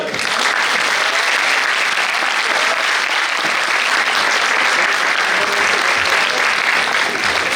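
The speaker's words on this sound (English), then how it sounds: "Again, a very big round of applause for sir." Audience applause for a speaker at a session for CA students: dense, steady clapping from a large room that runs loud and unbroken throughout.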